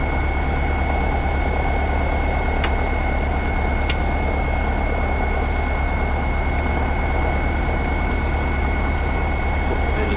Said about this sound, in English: Engine shutdown.